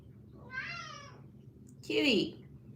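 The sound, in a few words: cat meowing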